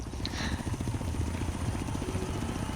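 Helicopter in the racing video game Forza Horizon 3, a steady loud rotor chop with engine drone filling the whole stretch, with no speech over it.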